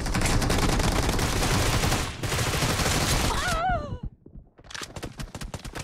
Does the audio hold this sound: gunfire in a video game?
yes